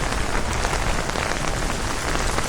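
Heavy rain pours down on a night in Manila, a loud, dense and unbroken hiss of drops hitting surfaces, with no voices over it.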